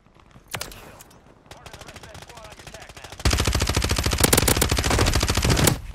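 Rapid automatic gunfire in a squad battle-royale shooter video game, starting in sparse bursts then swelling into loud sustained machine-gun fire with dense rapid reports, with voices faintly beneath.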